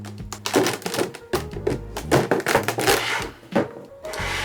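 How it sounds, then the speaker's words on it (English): Packing tape being peeled off the blister box of a Figuarts Zero Chainsaw Man figure, in a series of close, scratchy tearing and tapping bursts over a low steady hum. "So let me get this tape off."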